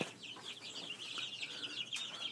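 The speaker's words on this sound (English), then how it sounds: "we got 1 chicken over here being a bitch. Just wanting to fight with them and pick on them" Chickens clucking and chattering in a yard where one bird keeps picking fights with the others, a steady busy flock murmur with sharper squawks breaking through, fairly faint and without voices.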